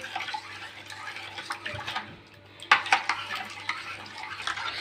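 A spoon clinks and scrapes in a container while sugar and salt are stirred into a liter of water for pickle brine, irregular close clatters with splashy swirling, busier in the second half.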